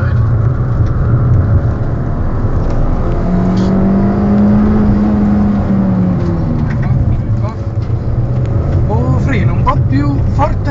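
Fiat Punto Abarth engine pulling steadily under constant throttle while driving around Sarno, a continuous near engine drone with one rising rev, while a person talks over it.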